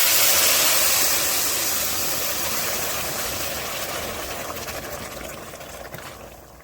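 Four cups of liquid pour onto two cups of rice in a cooking pot, a loud continuous splashing rush that gradually softens as the pour goes on.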